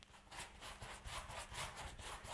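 Cheap coarse bristle gesso brush stroking primer onto an artwork canvas, a rhythmic run of raspy back-and-forth scrubbing strokes, close and fairly loud, with no talking.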